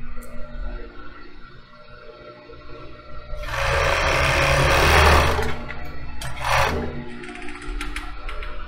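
Domestic sewing machine stitching the seams of fabric shorts in short bursts, the motor whirring loudly for a few seconds, pausing, then running again briefly, close by with no talk.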